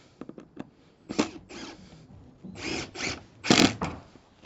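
A power drill drives screws into log cabin boards in short whirring bursts separated by pauses, close and moderately quiet, with light knocks between runs.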